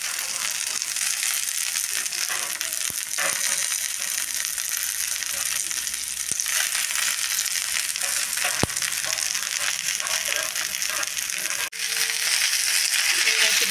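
Green chillies frying in a pan on a gas stove give a loud, steady crackling sizzle with a few sharp pops and scraping stirs.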